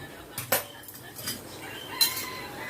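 A ladle scrapes and clinks against a wok while curry is stirred over a high gas flame, a few quiet metallic scrapes spaced apart, close and soft with no talking.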